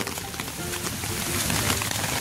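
Heavy rain pours outdoors in Tagkawayan, Quezon, as a dense, continuous broadband hiss of drops, fairly loud and close, with no talk.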